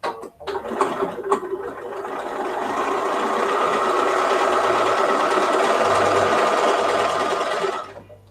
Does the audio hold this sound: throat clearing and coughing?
no